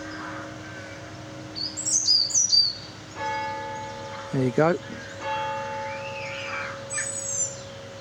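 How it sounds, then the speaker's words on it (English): St Mary's church bells in Stevenage ring faintly in the distance at two o'clock, near the River Beane, with birds chirping nearby and a brief spoken remark partway through. "you can hear the bells of St Mary's in the background"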